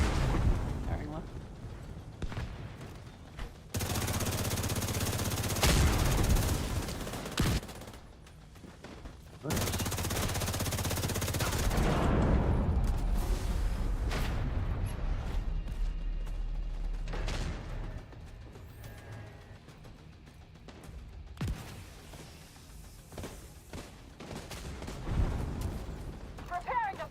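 Heavy gunfire and explosive blasts in a Division 2 raid, coming in long loud sustained stretches broken by quieter gaps, with more scattered shots and rumbling impacts later on.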